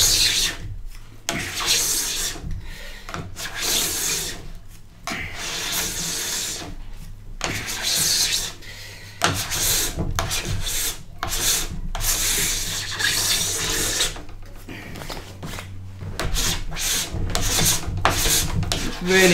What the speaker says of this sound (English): we're starting from the tip of our board, scrape at a bit of an angle to get us started